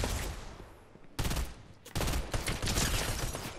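Auto-fire gunshots in Fortnite Mobile, bursts of rapid automatic fire: a fading spray, then dense volleys after short pauses, loud and close with no talking.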